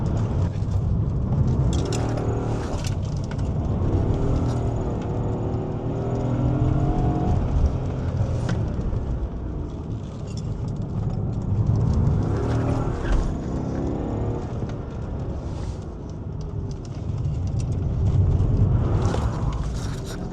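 A BMW E34 540i V8 engine pulling hard while driving, a loud, continuous engine drone that rises and falls with throttle and gear changes and runs without speech throughout.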